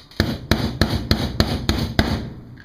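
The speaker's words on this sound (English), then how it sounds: "Tap that pin out." Seven sharp, evenly spaced hammer taps on a punch drive out a pin on a Hi-Point C9 pistol, close and loud with short ringing metallic decay.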